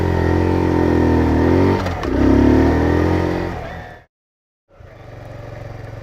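A Kawasaki Z125 Pro motorcycle engine runs loud and close, rising and falling through revs. It cuts out abruptly for a moment, then settles back into a steady idle.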